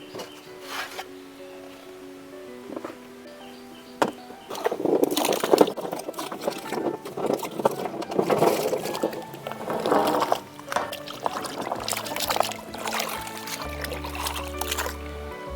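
Water sloshing and trickling as carrots are rinsed by hand, with splashes and dribbles rising and falling over several seconds.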